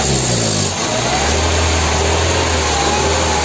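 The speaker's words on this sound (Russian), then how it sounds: "Вот, обороты плавают, она троит" VW Passat B3 with a single-point injection engine, running on a vacuum leak from a worn gasket, idling loudly and close with a rough, wavering drone as revs drift and cylinders misfire.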